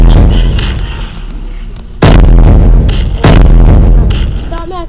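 Video game gunfire and explosive blasts, two sharp loud booms cutting through a dense rumbling din, close and heavy, as a flashbang goes off.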